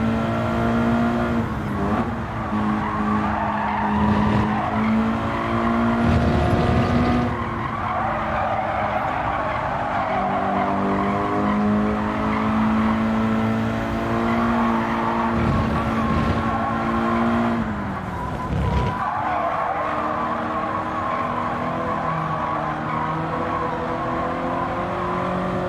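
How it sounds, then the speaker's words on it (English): Tires screeching and skidding on race cars in Gran Turismo 7, loud continuous squeals with engine drone and revving, several sharp bursts as cars slide through corners, no talking. "so many tires screeching"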